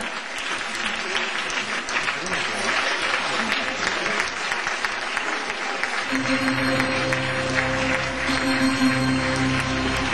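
Audience applause at a live presentation event, steady dense clapping from a large crowd lasting the whole stretch, with a music bed rising beneath it midway.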